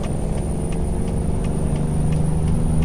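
Car traffic in American Truck Simulator while hauling a double trailer: a constant, loud rumble of engines and tires with no pauses, heard from the cab.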